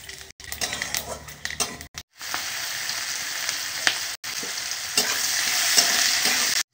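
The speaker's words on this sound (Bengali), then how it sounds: "এই তেলেতেই তেজপাতা শুকনো লঙ্কা আর পাঁচ ফোড়ন দিয়ে দেবো" Bay leaf, dry chili and panch phoron crackle in hot oil, with spoon scrapes and stirring knocks over a sizzle that swells louder in the second half.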